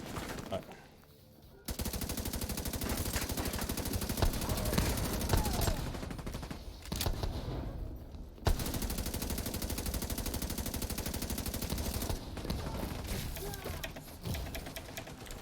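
Sustained automatic gunfire during a firefight in the Division 2 video game, loud and rapid, running almost continuously with brief breaks, and players talking over it.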